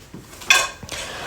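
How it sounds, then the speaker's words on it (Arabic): Dishes, pots and pans are stacked by a kitchen sink: a bright clatter of crockery and cutlery, close and brief, over faint background noise. "رصيت المواعين تاني."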